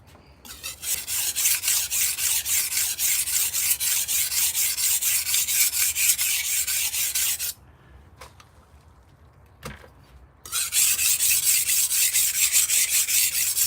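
Knife blade stroked steadily across a sharpening stone in rapid, even rasping passes, close and loud, pausing briefly midway with a few clicks before the rhythmic scraping resumes.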